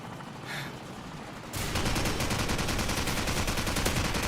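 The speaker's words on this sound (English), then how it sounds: "Enemy helicopter inbound." Video game battle with an enemy helicopter and gunfire: a dull rumble, then a sudden loud burst of rapid, continuous automatic fire that keeps hammering for the rest of the clip.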